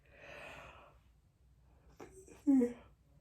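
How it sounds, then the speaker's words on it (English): A single person yawns near the microphone, giving a drawn-out breathy exhale that ends in a short voiced sound, with no other noise around it. "That yawn came out of nowhere."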